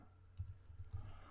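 A few quick, faint clicks of typing on a computer keyboard come in a short uneven cluster, close but quiet.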